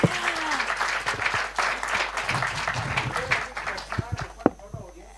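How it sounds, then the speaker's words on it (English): Audience applause for a conference panel at an AI summit on primary care, a dense burst of clapping from a crowd that carries on for several seconds with a few voices mixed in, then thins to scattered claps near the end. "can we have a round of applause,"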